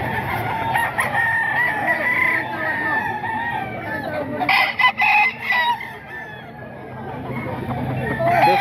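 A Sweater Blue gamecock rooster crows loudly and close, a drawn-out call with clucking and other fowl around it, set against a busy background where people talk.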